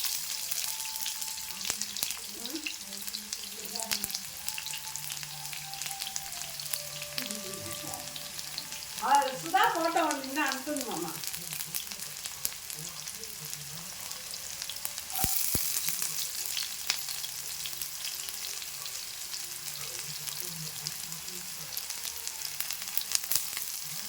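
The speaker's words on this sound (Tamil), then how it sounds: "கடுகு பொறிச்ச உடனே ஆனியன் சேர்த்துருவோம்" Onions going into hot oil with spluttering mustard seeds for egg gravy, giving a steady close sizzle and crackle that lasts throughout, with a brief voice partway through.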